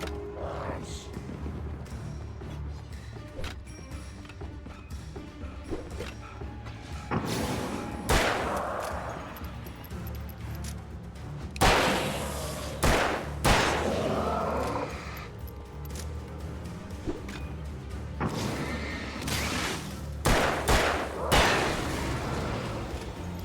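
Gunfire in the video game Alan Wake: scattered sharp shots and bursts over a creaking, rumbling game ambience, growing denser toward the end, with a voice talking at times.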